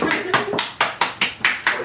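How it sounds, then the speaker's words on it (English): Bare floury hands clap together about eight times in a quick, steady rhythm to shake off flour in a home pizza-making session, sharp and close. "I clapped a lot"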